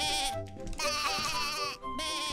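A goat bleats in a long wavering call, breaks off briefly, then bleats again, loud and close, set against a fairy-tale scene of a mother goat and her kids.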